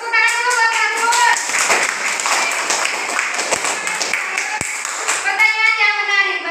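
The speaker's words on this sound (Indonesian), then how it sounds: "Tepuk tangan dulu buat Syahrul" A classroom of students bursts into lively applause for a classmate, dense and close clapping that runs throughout and ends with a couple of sharp claps, with children's voices chattering underneath.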